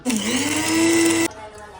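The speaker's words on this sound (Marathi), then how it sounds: "हे आपल्याला मिक्सरमध्ये वाटून घ्यायचं आहे" A kitchen mixer grinder whirs loudly as it grinds coriander, ginger, green chili, garlic, cinnamon, cloves, black pepper and a little coconut, running in one high, steady burst for just over a second before cutting off abruptly.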